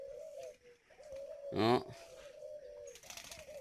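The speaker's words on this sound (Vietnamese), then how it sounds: "chim cu gáy" Spotted dove cooing near a breeding area in Ba Vì, Vietnam: a steady low coo runs through the clip, broken by a sharp louder call partway through, with someone talking briefly.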